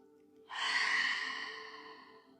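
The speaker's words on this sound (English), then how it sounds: "Breathing in and breathing out." A single slow, audible exhale during a yoga class, a soft sigh-like breath that swells and gradually fades over about two seconds in a quiet room.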